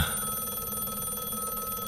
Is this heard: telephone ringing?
yes